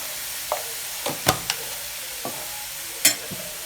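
Grated radish stir-frying in a pan with turmeric and asafoetida, a soft steady sizzle broken by a series of sharp spatula scrapes and taps at irregular intervals, with no talking.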